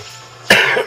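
A single sharp cough breaks through quiet background hum, close and fairly loud.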